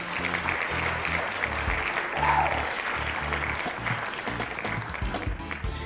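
Steady applause from a live-streamed audience, loud and continuous throughout with dense clapping and some voices mixed in underneath.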